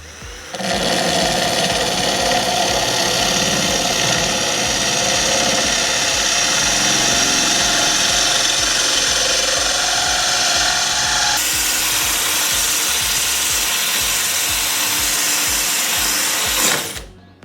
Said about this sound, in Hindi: तो 18 mm का होल इस बिट की मदद से अपने इस ग्लास में, देखते हैं हो पाएगा नहीं।